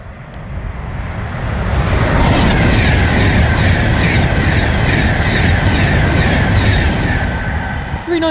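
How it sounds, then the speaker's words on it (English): An Avanti West Coast Class 390 electric train runs through Berkhamsted station from Birmingham New Street to London Euston, a loud, broad rushing roar that swells within two seconds, holds steady, then fades at the end. "past through now is the Van Coast Class 390, running from Birmingham New Street to London Euston"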